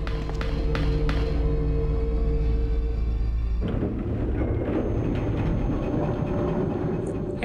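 Tram moving in the video game Resident Evil 2: a steady loud low rumble and hum with a tonal whine, shifting at about 3.7 seconds into a rougher, clattering rolling roar that continues to the end.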